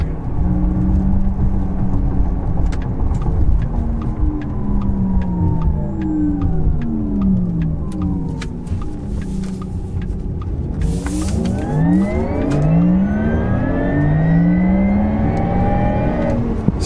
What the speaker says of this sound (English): Sport Plus puts on a little bit of a humming noise so that you can hear, it almost sounds like a humming engine